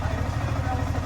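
Yamaha R15 v3 fuel-injected motorcycle engine idling steadily just after its RPM was set, a close, continuous low throbbing rumble with an even pulse throughout.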